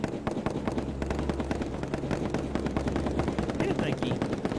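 Rapid machine-gun fire in the video game Pummel Party rattles on steadily, dense and continuous, over a low hum of game background sound.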